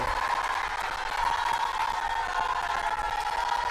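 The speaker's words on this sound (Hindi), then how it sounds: "ताली बजाओ अरविंद जी के लिए जोर से।" A large crowd at an outdoor political rally applauding and cheering for candidate Arvind, a continuous, moderately distant roar of clapping with a steady tonal hum running beneath it.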